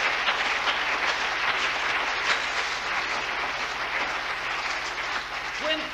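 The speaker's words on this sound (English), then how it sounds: "Go ahead and clap your hands." A church audience at a prayer teaching breaks into sustained applause, a dense steady wash of many hands clapping that stays loud throughout.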